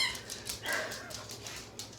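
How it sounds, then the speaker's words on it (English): A loud dog barks indoors in a home in a series of sharp, repeated barks spread across the moment, with a steady low background hum and no speech. "That dog right there is super loud."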